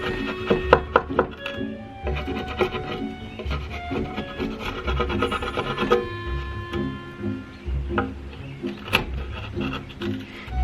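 A freshly sharpened chisel pares and scrapes wood by hand at a workbench, giving close scraping strokes and light knocks in an irregular rhythm over about ten seconds, with no talking.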